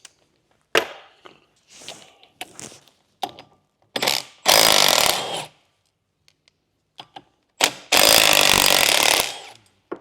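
A 3/8 impact gun hammers at a car flywheel in a garage workshop, firing in short bursts then two long loud rattling runs, close and harsh with pauses between.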